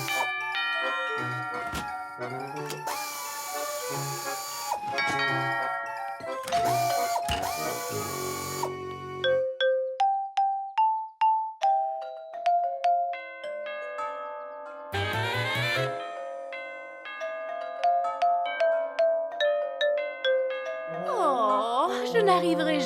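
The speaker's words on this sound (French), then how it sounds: "on a posé des carillons partout" Door chimes in a cartoon ring out a tinkling melodic tune in clear bell-like notes, loud and near, with bursts of other cartoon sound effects mixed in and voices speaking at times.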